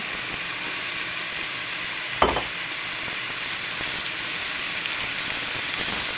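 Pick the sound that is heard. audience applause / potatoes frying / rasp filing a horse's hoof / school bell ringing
potatoes frying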